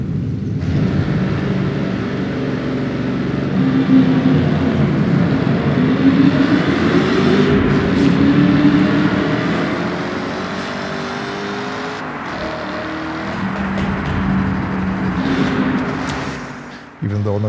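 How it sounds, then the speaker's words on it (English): A Ford GT V8 in the racing game Forza Horizon 6 rises and falls as the car accelerates and shifts, a steady engine drone with a voice talking over it. "there are cars like the Ford GT, which had been one of my favorites so far. That's partly due to the sound of the V8 engine."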